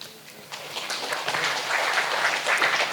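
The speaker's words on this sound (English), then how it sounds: "A huge round of applause for them." Applause from a conference audience for a panel of speakers at a founders' event, a steady mass of clapping that builds after the first half second and holds fairly loud throughout.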